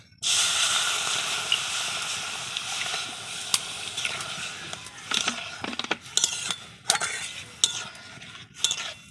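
Water poured into a hot pan of lightly roasted semolina sets off a loud hiss that sustains and then fades, followed by scattered clinks and scrapes of stirring against the pan.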